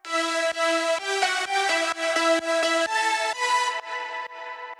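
A buzzy progressive house synth lead with effects, including OTT, plays a choppy melodic line with added sheen and a wider, processed character, the final notes fading into a tail.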